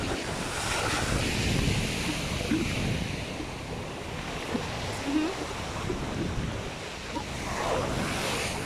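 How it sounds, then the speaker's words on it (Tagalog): Strong surf pounds a beach at Leptokarya, Greece, on a rainy day, a continuous roar of breaking waves with gusts of wind buffeting the microphone throughout. "Pero hindi pa rin kami mag-swimming kasi ang lakas ng alon."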